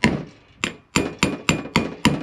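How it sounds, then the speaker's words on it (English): A hammer strikes a bearing driver to seat a bearing into the front brake hub of an M1009, giving six sharp metallic taps, the last five in an even, quick rhythm, close and loud. "Get your hammer and your bearing driver"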